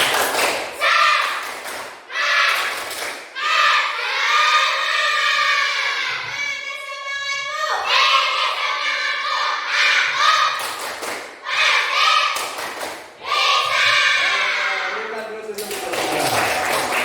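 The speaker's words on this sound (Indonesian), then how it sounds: "coba satu kali tepuk semangat" Fifth-grade elementary pupils in a classroom do a rhythmic spirit clap, loud unison chanting from the children broken by sharp bursts of group clapping throughout.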